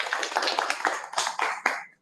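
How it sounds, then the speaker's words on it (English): Small club meeting audience giving brief applause, a few close claps at a steady pace that stop abruptly. "So give a big round of applause for both speaker and evaluator."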